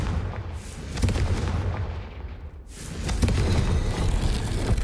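A Confringo spell explodes in the video game Hogwarts Legacy, giving a loud booming blast with rumbling crackle that swells again partway through and holds as a dense roar to the end.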